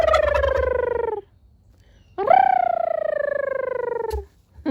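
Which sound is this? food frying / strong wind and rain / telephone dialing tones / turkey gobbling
turkey gobbling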